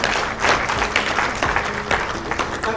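Dense, steady applause from a seated audience at a business team event in a hotel hall, many hands clapping loudly and continuously throughout.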